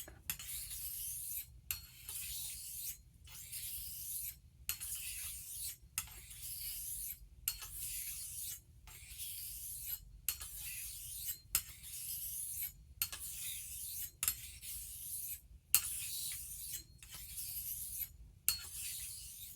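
A Wade and Butcher straight razor strokes across an Escher Thuringian stone in a steady rhythm of short, soft rasping passes, each followed by a brief pause, faint and close throughout.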